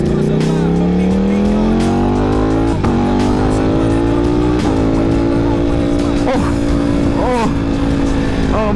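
Ducati V4 motorcycle engine revving hard on a ride, a loud close snarl that climbs steadily through the gears with brief sharp dips at each shift, with wind noise throughout.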